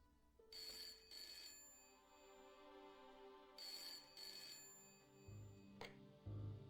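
A phone rings in the Broken Sword adventure game after a number is dialed, two paired bursts of bright electronic trills separated by a pause, clear and close, followed by a couple of soft clicks.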